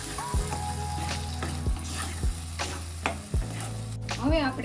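A spoon stirs tomato paste gravy for Kathiyawadi dum aloo in a pan of hot oil, with a steady sizzle and repeated loud scraping clacks against the pan, close up and without talk.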